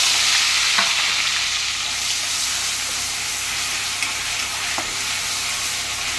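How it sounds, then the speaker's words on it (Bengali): Onion paste frying in hot oil with whole garam masala spices, a loud, steady close-up sizzle and hiss that carries on without a break, with a couple of faint clicks and no voices. "পেঁয়াজটা দেখুন আমার ভাজা ভাজা হয়ে গেছে।"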